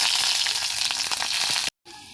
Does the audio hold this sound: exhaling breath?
no